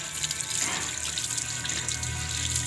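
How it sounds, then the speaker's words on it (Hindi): Running water from a tap steadily pours over a product to wet it, a continuous hissing splash lasting throughout, close and fairly loud, with no voices. "इसको ना मैं पानी के साथ इसको ज़रा गीला करता हूँ,"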